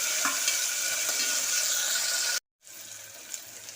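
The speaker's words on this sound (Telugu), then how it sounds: "ముక్కలు బాగా వేగేలాగా వేయించిన తర్వాత మటన్ని ఇందులో వేసేయాలి వేయించుకుందాం" Mutton pieces hitting a hot pan of onions, a dense steady sizzle and frying hiss close up, cut by a brief silent gap, then resuming with faint stirring, no voices.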